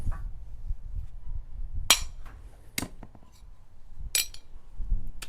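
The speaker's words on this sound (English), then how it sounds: "I may have to peck on it with a hammer." A hammer pecks at a stuck, rusted-in metal part on equipment being repaired, giving three or four sharp, ringing metallic taps spaced irregularly over low background rumble.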